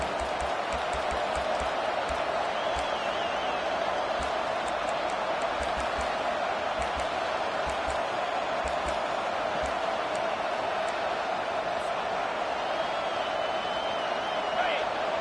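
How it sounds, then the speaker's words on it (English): A roaring American football stadium crowd cheers loudly and steadily throughout, with a dense continuous wall of noise, scattered shouts and whistles, and a broadcast announcer talking over it. "this crowd is tearing the lid off this place."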